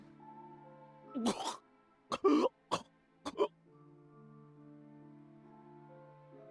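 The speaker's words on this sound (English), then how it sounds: "After a few coughs" A video game character's few short, raspy coughs in a quick cluster, fairly close, followed by quiet sustained background tones; no talking.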